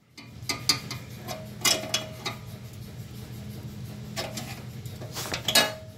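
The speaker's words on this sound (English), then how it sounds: "Just take a screwdriver and pry that out" A screwdriver pries bolt retainer clips off a Ford F-150 bumper, giving sharp metallic clicks and scraping ticks in scattered bursts over a low background hum, close and fairly loud, without speech.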